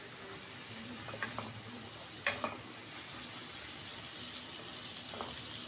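Onions frying in a pan until they start turning pink, a steady broadband sizzle with a few brief spoon scrapes and clicks rising above it, close and even throughout.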